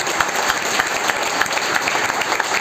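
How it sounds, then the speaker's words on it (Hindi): An audience at a paint company's training event claps continuously, a dense, even patter of many hands that carries on throughout without a break. "आप सभी का जोरदार तालियों द्वारा स्वागत किया जाता है"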